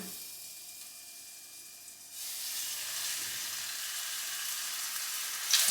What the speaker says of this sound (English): Good, bit of sizzle, that's what we like to hear.